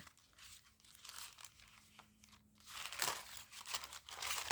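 An unused paper bag crinkles and crunches close up in uneven bursts, growing louder and busier toward the end.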